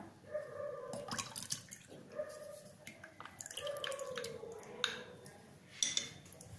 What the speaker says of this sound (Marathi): आता हे चिकाचं दूध आपण याच्यात घालूया